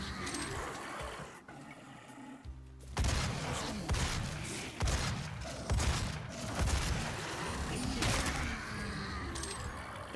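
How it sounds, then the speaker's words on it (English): Rapid, punchy bursts of super shotgun fire in the video game Doom ring out from about three seconds on, loud and dense against a busy game soundtrack with faint talk. "And this is the super shotgun."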